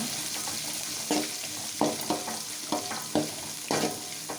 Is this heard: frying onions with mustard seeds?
yes